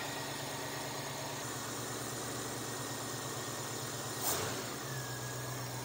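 A 1973 Ford Mustang convertible's engine runs steadily at a low, even idle-like drone, with a brief surge as the throttle is opened before it settles again.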